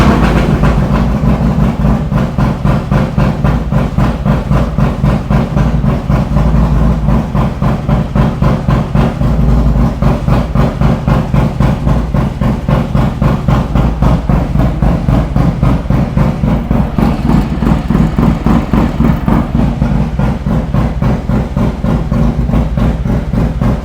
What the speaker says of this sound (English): So let's start this bike up.